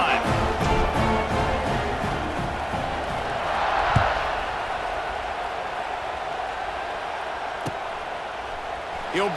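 A stadium crowd in EA Sports College Football 26 roars in a broad, sustained wash that swells early and then settles into a steady distant murmur, with a few faint thuds and indistinct voices.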